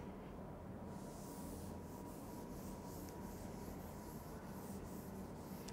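Steady, continuous rubbing against a written board to erase it, a close, dry scrubbing texture that holds its level from start to finish, with no talking.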